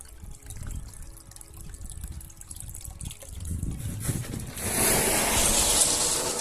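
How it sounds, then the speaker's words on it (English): Water trickles and splashes in a garden water feature built where an old pipe used to be, a soft patter at first that swells into a louder, fuller gush of falling water near the end. "Nice little feature now made out of the water instead of an ugly pipe."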